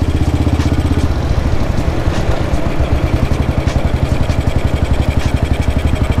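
A 1952 BMW R25 motorcycle engine runs close by with a quick, even chugging beat of exhaust pulses that stays steady and loud throughout.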